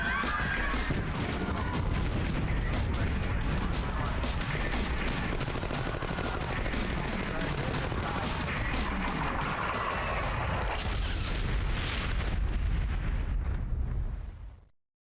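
An artillery strike in Jagged Alliance 2 pounds down as a sustained, roaring barrage of explosions and gunfire, loud and unbroken for about fourteen seconds before cutting off abruptly.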